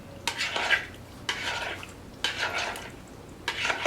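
Poke with sauce mixed in a bowl, giving four separate bursts of wet scraping and clinking stir strokes, close and moderately loud, with brief quiet gaps between them.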